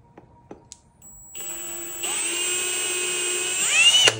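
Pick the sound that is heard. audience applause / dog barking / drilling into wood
drilling into wood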